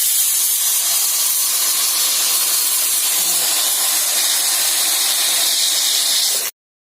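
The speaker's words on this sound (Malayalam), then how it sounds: "കുക്കർ 1 വിസിലടിച്ച്" A kitchen pressure cooker, cooking rose apples (champakka) on the stove, vents steam in a loud continuous hiss that holds steady for about six seconds before cutting off abruptly, with no speech.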